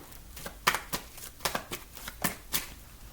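Tarot cards being shuffled by hand, a series of crisp riffling bursts in an irregular rhythm, close and fairly quiet with no talking.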